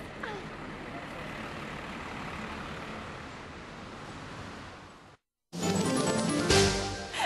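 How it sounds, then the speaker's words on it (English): A bus pulls up at a stop: a steady broadband engine rumble, a short break, then louder, closer engine noise with a hissing air-brake character. "Oh, here comes our bus."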